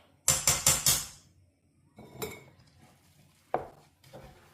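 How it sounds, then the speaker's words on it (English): A spoon knocks four times in quick succession against a pot of ukwa (African breadfruit) with sweet corn, salt and palm oil, then softer scraping and a few scattered clinks follow as the mixture is stirred. "Now mix and add the remaining okwa."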